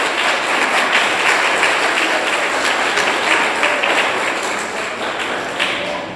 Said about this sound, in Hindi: सब अपने लिए भी बहुत ज़ोरदार तालियां बजाएं